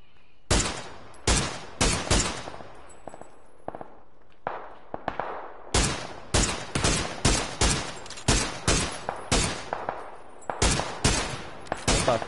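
Gunfire in PUBG, many sharp shots spaced in quick bursts throughout, loud and close, with brief pauses between volleys.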